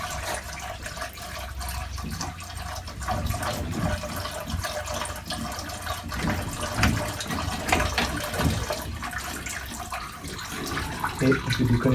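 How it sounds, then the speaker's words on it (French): Coolant drains from a Peugeot 205 GTI radiator, a steady watery trickle and splash that runs continuously with small gurgles, close by. "Alors là, je finis de vider le radiateur."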